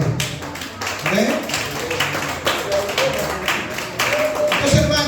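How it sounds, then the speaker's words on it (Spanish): A church congregation claps together in praise, a dense patter of many hands blending with voices and calls from the crowd. "Dale un aplauso al Señor."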